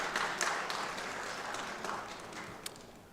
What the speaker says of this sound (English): let's give them a round of applause, all our FFA members.